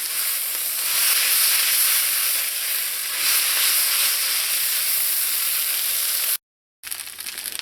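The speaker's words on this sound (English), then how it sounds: "once you put in that curry, you just want to let this cook up in here for about a minute or two." Rice noodles with curry powder and stir-fry sauce sizzle and fry in a pan, giving a loud, continuous hiss with occasional stirring scrapes and a brief cut near the end.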